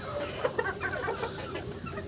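Hens on a poultry farm cluck in short, soft bursts at close range on a quiet morning, a few distinct calls standing out over low steady background noise.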